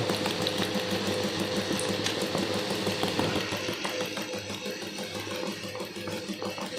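A sewing machine runs at slow speed stitching fabric, a steady, close mechanical whirring hum that continues without pause throughout.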